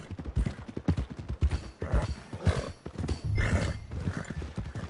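Horse hooves clip-clopping at a steady trot in the Red Dead Redemption 2 video game, close and rhythmic over a busy mix of ambient game sound and occasional snorts.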